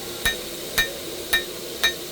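Hammer blows land on a hot blade at a forge, four sharp metallic strikes evenly spaced about half a second apart, loud and ringing against a quiet steady background.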